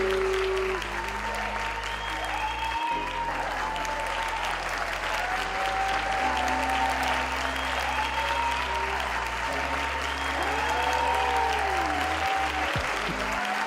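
Clapping for hype on a live stream of the game Oxygen Not Included rolls on steadily and evenly over game music for the whole stretch, with no break.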